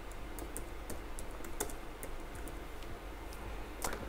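Rapid typing on a computer keyboard, a steady stream of close, light key clicks with a few louder taps near the end, alone with no voices.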